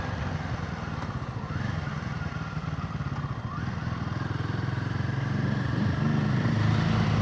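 Royal Enfield Himalayan 450 adventure motorcycle ridden on a wet summer day, its engine droning steadily with a rumbling, slightly rising note under continuous road and wind noise.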